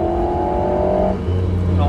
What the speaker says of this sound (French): On sent le moteur qui chante, on sent le turbo qui commence vraiment à pousser.